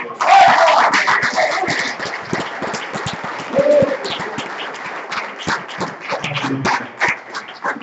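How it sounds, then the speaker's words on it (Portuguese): A church congregation applauds, a dense, crackling wash of many hands clapping that swells and thins over several seconds, with some voices mixed in. "Palmas para o Senhor Jesus."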